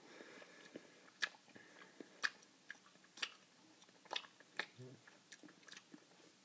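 Close, quiet bites and chewing of a hot Nutrisystem vegetable fajita mix eaten on its own, with soft crunchy snaps spaced about a second apart and wet mouth sounds between them.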